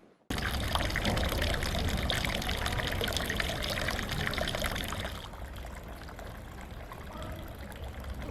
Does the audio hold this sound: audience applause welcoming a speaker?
no